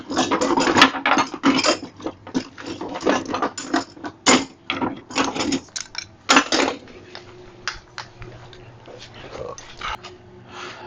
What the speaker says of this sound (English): I'm going to get my torque wrench and we're going to tighten it